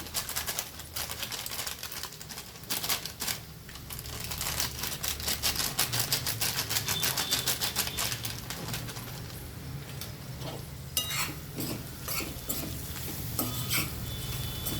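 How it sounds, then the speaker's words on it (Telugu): A mutton fry with mutton masala is stirred in a pan: continuous sizzling with repeated scraping and clinking of the utensil against the pot, and faint bird cooing in the background. "కొంచెం మటన్ మసాలా వేసుకొని అయితే మనం కలుపుకోవాలి."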